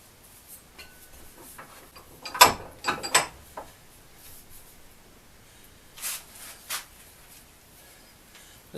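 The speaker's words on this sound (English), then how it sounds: "Gonna see if I can get these lock nuts loosened up" A wrench works loose lock nuts on a salvaged flea-market find outdoors, a few faint scattered metallic clicks and ratcheting bursts against a quiet background.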